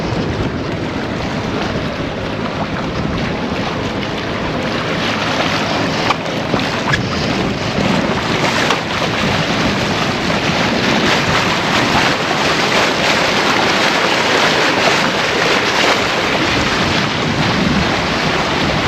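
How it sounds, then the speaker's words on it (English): Wind rushing past a sailboat in the Stockholm archipelago, a loud, continuous roar buffeting the microphone, mixed with faint water wash against the hull and no talking. "the wind came now"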